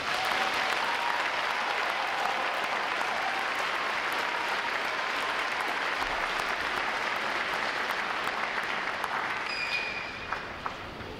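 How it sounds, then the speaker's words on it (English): Large crowd applauding graduating sailors at a U.S. Navy Recruit Training Command graduation, sustained broad clapping for about ten seconds, tapering near the end with a few scattered claps and faint cheers. "Let's give these sailors a round of applause."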